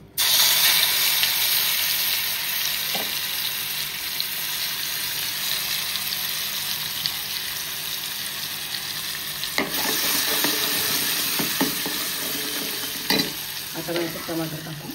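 A crushed coriander, chilli and garlic paste hits hot oil in a pan, giving a loud, continuous sizzle with crackling and stirring that stays steady throughout.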